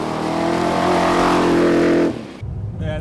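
A V8 off-road racing Land Rover with a ZF gearbox drives on a public road, its engine droning loudly and steadily before the note drops off sharply near the end, followed by quieter cabin noise.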